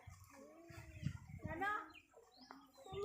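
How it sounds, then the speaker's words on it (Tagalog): A chicken clucks nearby in a yard, a few short throaty calls rising and falling over about three seconds, quiet and mixed with people talking. "Ay, may manok kili da."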